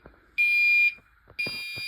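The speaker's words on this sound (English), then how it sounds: "Why the fire alarm going off?" A fire alarm sounding during a school fire drill: two loud, shrill electronic tones, the first about half a second long and the second still going, with faint background noise between them.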